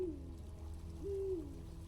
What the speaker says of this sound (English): The owl sounds like it's in this tree.